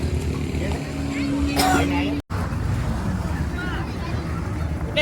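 A motorboat engine drones steadily during a sea ride at Shivrajpur beach near Dwarka, Gujarat, loud and close, mixed with heavy wind buffeting and water rush, and people's voices over it.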